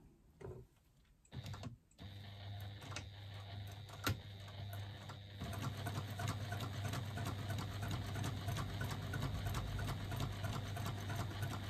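A sewing machine top-stitches faux leather, starting with a few short bursts and then running as a steady, faint mechanical hum with fast rhythmic ticking, and no one speaking.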